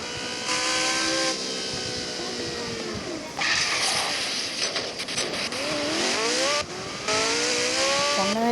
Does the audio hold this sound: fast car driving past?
yes